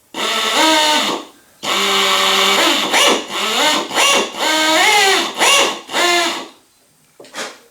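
Power drill boring out a bad rivet head in metal, run in several short bursts with pitch rising and falling as the bit bites and slows, loud and close with pauses between.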